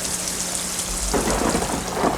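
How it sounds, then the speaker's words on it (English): Steady rain pouring down with a low rumble of thunder building underneath, continuous and fairly loud, no voices. "Rain"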